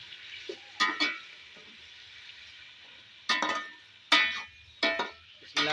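Tomatoes and onions stirred in a frying pan for beef biryani, with a steady soft sizzle and several sharp scraping bursts from the stirring spoon, close by.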